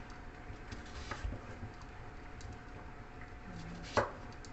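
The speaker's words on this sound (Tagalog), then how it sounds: "So, ganito lang yung paghiwa ko ng kalabasa" A knife cutting squash (kalabasa) for a Bisaya vegetable soup, mostly faint, scattered taps against a steady background hum, then one sharper, louder thunk near the end. No voices are heard.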